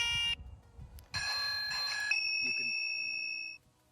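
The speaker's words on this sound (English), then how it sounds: "This here is the horn." An aftermarket horn fitted to a Xiaomi M365 Pro electric scooter sounds in a short electronic beep, then a longer sustained tonal blast lasting about two and a half seconds, loud and close.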